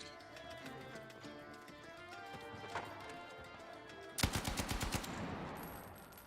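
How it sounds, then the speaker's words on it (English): Gunfire in an EVE video game plays at low level, a busy mix of rapid clattering shots and mechanical rattle, with a sharper burst of repeated bangs near the end. "The gunfire too loud or anything?"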